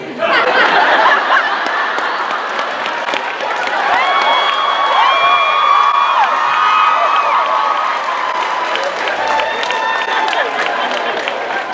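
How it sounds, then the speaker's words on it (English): Studio audience at a fan convention Q&A clapping and cheering steadily throughout, a dense wash of applause with scattered laughter and crowd chatter beneath. "I don't know why they're clapping."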